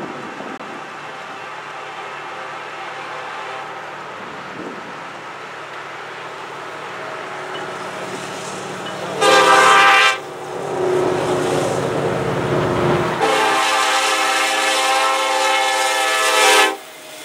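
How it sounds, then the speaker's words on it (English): A Norfolk Southern intermodal freight train, led by an EMD SD70M-2 locomotive, rumbles past loudly and close, with horn blasts sounding partway through and continuing toward the end. "I then caught another intermodal train on NS."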